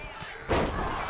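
A wrestler leaps off the second rope and crashes down in a Meteora flying move, one sharp thud landing midway through after a quieter lead-in, with faint crowd noise underneath.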